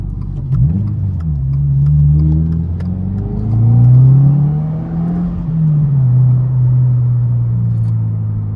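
Cabin sound of a 2022 Subaru WRX on H&R lowering springs driving through bends, the engine rumbling loud and close as revs rise and fall between shifts, with no talk.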